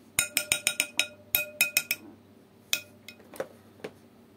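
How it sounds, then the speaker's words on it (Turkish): A spoon mixing melted soft margarine with sugar and oil in a bowl, a quick run of bright clinks against the bowl, then sparser taps after a pause, close and clear. "Erimiş yumuşak margarini şöyle güzelce şekerle sıvı yağla birlikte şöyle homojen akıcı bir kıvam olana kadar karıştırıyoruz"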